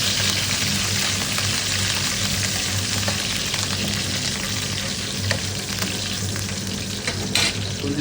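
Garlic pepper kuzhambu fries in a pan in a home kitchen with a steady close sizzle, interrupted by occasional scraping stirs, loud and continuous without any talk.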